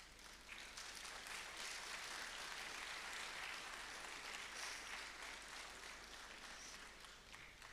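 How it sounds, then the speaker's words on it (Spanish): Sustained applause from a large church congregation welcoming a choir, steady and dense clapping throughout, fairly distant and filling the whole stretch without talk. "vamos a recibir con un fuerte aplauso al coro Nuevo Alegría"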